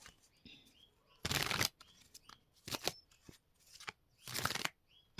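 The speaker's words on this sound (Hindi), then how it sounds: "तो फटाफट से कार्ड ले लेते हैं हम।" Tarot cards are shuffled and drawn in three bursts of brisk riffling, close and fairly loud, separated by quieter pauses with faint handling clicks.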